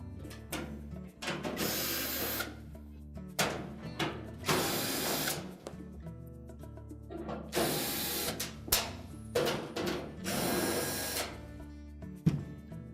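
A power driver whirs in repeated bursts, backing screws out of the back panel of a Whirlpool dryer, with clicks and short pauses between each screw at close range.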